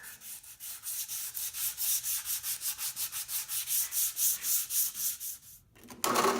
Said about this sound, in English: After machine sanding with the 80 grit, I'll switch to hand sanding and I'll work from 100 all the way up to 220 grit sandpaper.